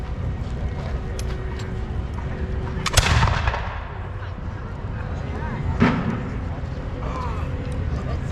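Historic musket fired during an Alamo reenactment weapons demonstration outdoors, two sharp booming shots a few seconds apart over steady background noise and crowd murmur.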